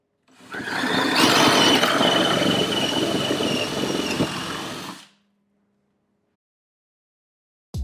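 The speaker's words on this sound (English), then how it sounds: "Now let's see the drill in action doing what it does best, drilling." A power drill whirs steadily for several seconds at close range, then stops abruptly, leaving near silence and a brief click at the end.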